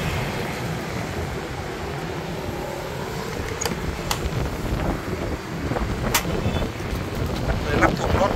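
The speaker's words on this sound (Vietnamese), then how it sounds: "Trời bắt đầu nổ gió." Strong wind buffets an outdoor microphone beside a pickup truck, a steady low rumbling roar across the whole stretch with gusts swelling toward the end and a few faint clicks.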